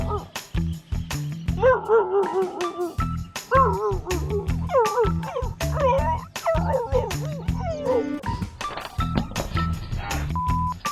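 Dogs bark, yip and howl in a busy, close series of calls, with bursts of varied pitch, some sharp impacts and commotion mixed in.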